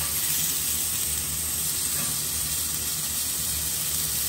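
King oyster mushrooms sizzle on a grill pan, giving a steady, dense, even hiss that carries on without a break.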